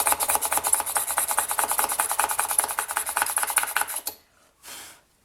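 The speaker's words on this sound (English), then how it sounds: "next step now is going to be to drill a hole" A steady, fast rasping whir of a small drill working through polymer clay for about four seconds, then a brief second burst.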